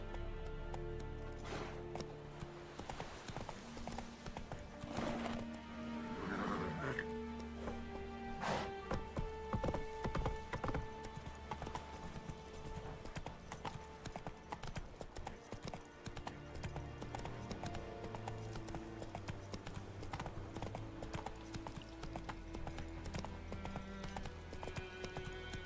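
A horse gallops in The Witcher 3, with a continuous run of rhythmic hoofbeats that sits under layered game music and ambience throughout, moderately close and fairly quiet.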